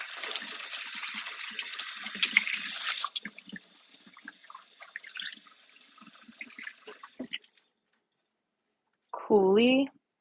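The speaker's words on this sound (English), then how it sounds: "Let me wash my hands." Hands washed under a running kitchen tap: a loud, steady gush of water for about three seconds, then softer splashing and rubbing that fades to silence, followed by a short burst of talking.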